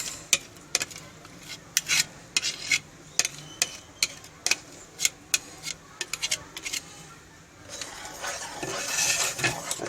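Beaten egg yolks being stirred into foamy egg whites in a bowl, heard as a string of sharp, rhythmic scraping and clinking strokes against the bowl, close by and without talk.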